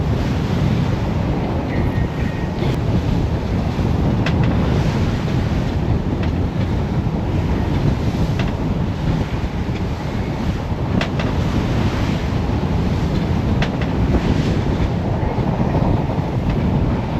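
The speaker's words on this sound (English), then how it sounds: "Cause these are some nice waves." Ocean waves and wind surround a boat at sea, a loud, steady roar of surf and buffeting wind that runs unbroken through the whole stretch, with no voices.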